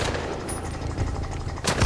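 Rapid, loud gunfire in the video game Far Cry 4 rattles in a continuous automatic burst, shots running together with a dense, close crackle throughout.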